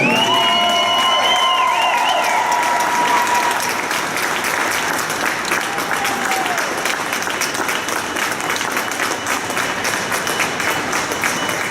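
A large crowd at a state diving championship claps and cheers loudly and continuously, with scattered whistles and shouts rising above the sustained applause.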